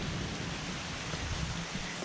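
Rain falls on a steep uphill road in Chalatenango, El Salvador, a steady, fairly faint wash of hiss with no voices over it.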